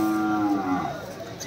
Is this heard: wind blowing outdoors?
no